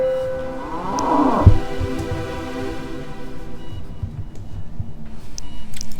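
A cow moos in the horror video game Happy's Humble Burger Farm, a single low drawn-out moo close up that swells and fades within a couple of seconds over a steady rumbling game ambience.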